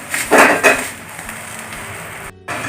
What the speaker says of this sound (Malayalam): നമുക്ക് ഫ്രൈഡ് റൈസ് ശരിയാക്കാനുള്ള പാത്രം വയ്ക്കാം